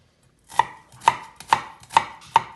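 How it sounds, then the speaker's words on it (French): A knife chops through an onion on a board, five crisp, evenly spaced cuts landing close and clear with no talk. "je vais émincer mon oignon"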